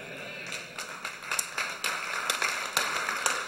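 Scattered clapping from an audience at a sermon, a steady run of sharp overlapping claps close by that rises slightly in places and carries on without any voices.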